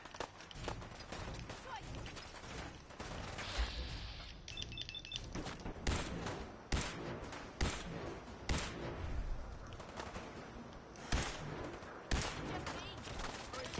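Institute rifle fire in a video game, with a series of sharp, spaced shots cracking over a busy background of movement and faint talk.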